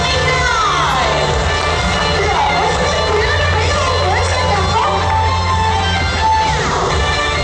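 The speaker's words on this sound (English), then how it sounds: "great applause for our lovely parents, great applause for our sweet family, Fiona Shrek." A lively crowd cheers and shouts continuously, voices of children and adults blending into a loud, excited roar.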